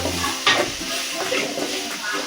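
Mutton curry with tomatoes and salt being stirred in a pan, a close, steady sizzle with soft scraping stirs and no voices.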